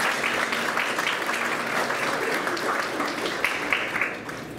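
A banquet audience at Lindsey Wilson College fills the room with applause, a dense, sustained wash of many hands clapping at once that holds steady for several seconds before slowly thinning out, with no clear speech over it.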